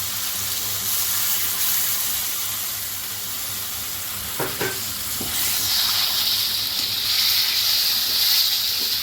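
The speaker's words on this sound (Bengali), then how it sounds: "মাছটা দিয়ে সামান্য জল দেবো আমি" Katla fish fries in a pan with a steady sizzle, then a couple of soft knocks and a rising, brighter hiss as a little water is poured in.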